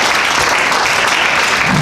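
A comedy show audience breaks into dense, loud applause, a continuous roar of clapping hands with no gaps across the short burst.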